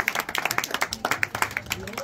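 A small crowd at an Independence Day barbecue gathering claps in quick uneven bursts, close and moderately loud, with a voice talking over the clapping.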